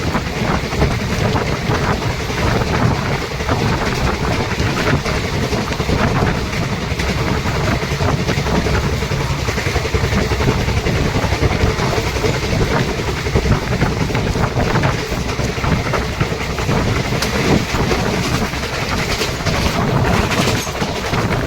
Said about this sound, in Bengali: সবুজ ধান ক্ষেতের মধ্যে দিয়ে ট্রেন ঝড়ের গতিতে ছুটে চলেছে